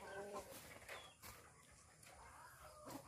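Backyard chickens kept as livestock cluck in short, scattered bursts, fairly faint and spread through the moment, with rustling in the background and no clear talk.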